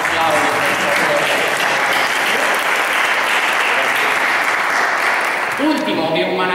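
Loud, sustained applause from an audience at an Italian medieval awards ceremony, dense steady clapping filling the room, with a voice breaking in near the end.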